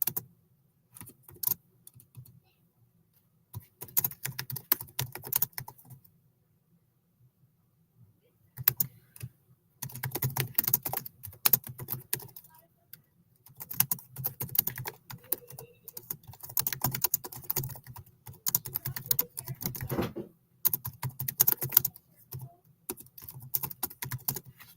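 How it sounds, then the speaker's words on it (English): Clicky computer keyboard typing during a live baseball broadcast: quiet bursts of rapid keystrokes separated by pauses, close and faint, with no talk over them. "I was typing something in"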